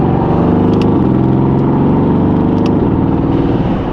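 A Mercedes-AMG GT S engine roars close and loud through quick short-shifted gear changes, its throaty tone dipping and climbing again at each shift, with no talking.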